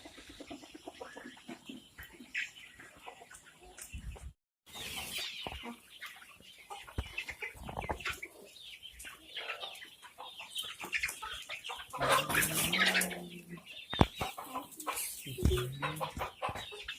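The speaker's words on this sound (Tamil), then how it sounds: "நம்மள்ட்ட பெரிய கோழியும் அவைலபிளாக இருக்குது." Chickens and hens at a poultry sale cluck and squawk continuously, close and fairly loud, with busy overlapping calls and occasional louder bursts from the flock.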